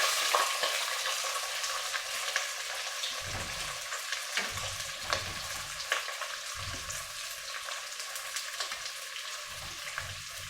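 Three sliced onions frying in hot corn oil, a steady dense sizzle with crackling pops throughout, close and continuous with a few soft stirring knocks.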